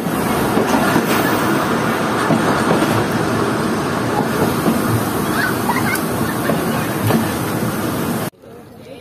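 Mohen Jo Daro Express on the Kotri to Rohri main line, a loud continuous rumble of carriages rolling on rails with faint clicks, cutting off abruptly near the end.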